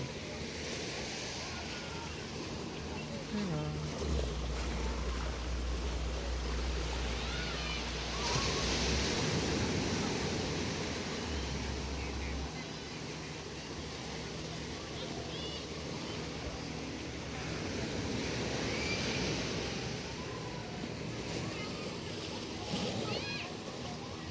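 Ocean waves breaking on the beach at Pantai Mutiara in Trenggalek, a continuous loud rushing surge with heavy wind buffeting the microphone, while people talk over it now and then.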